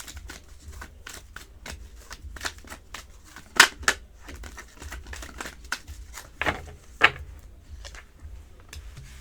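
Tarot cards handled during a love reading, with soft shuffling and sliding card sounds throughout and a few sharper snaps as cards are drawn and laid down, close and fairly quiet.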